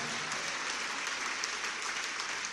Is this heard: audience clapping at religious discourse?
yes